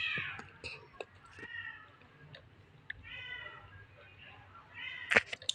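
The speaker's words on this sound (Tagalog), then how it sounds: "Ingay talaga ng pusa." A cat meows repeatedly, short plaintive calls spread across the moment, fairly close, with a faint background hum and no talk.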